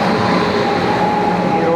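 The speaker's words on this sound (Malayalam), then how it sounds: "16159 താമ്പരം മാംഗ്ലൂർ സെൻട്രൽ എക്സ്പ്രസ് ആണ്." Tambaram–Mangalore Central Express 16159, hauled by a WAP 7 electric locomotive, rolling past close by with a loud, steady rumble and a sustained metallic hum throughout.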